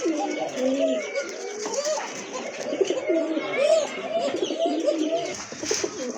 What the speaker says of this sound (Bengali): আর নটটা কিন্তু খুবই ডাকে, খুবই অ্যাক্টিভ ফ্রেশ কবুতর।